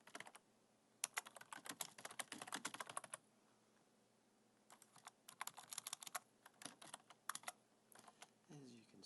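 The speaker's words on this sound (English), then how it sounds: "I'm just kind of typing random names until I find one that works" Rapid clattering keystrokes on a computer keyboard come in two dense bursts separated by a quiet pause, close and crisp against a faint, low background hum.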